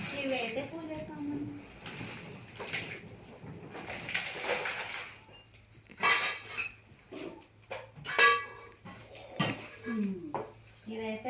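Kitchen utensils, spoons and a cooking kadai clink and clatter in scattered metallic bursts while someone talks throughout.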